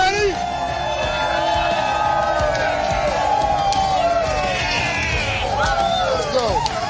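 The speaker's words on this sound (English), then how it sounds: "We got a big crowd here today." A large crowd at a political rally in Georgia cheers and whoops, loud overlapping shouts and rising yells from many voices over a steady roar.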